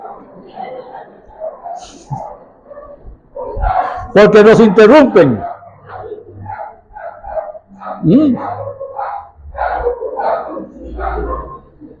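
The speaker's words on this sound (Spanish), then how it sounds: "que los perros callen en la congregación" Dogs bark during a church congregation gathering, a loud burst of barking and yelps standing out from steady speech, with further barks scattered among the talking.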